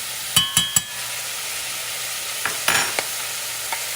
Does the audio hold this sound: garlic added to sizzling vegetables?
yes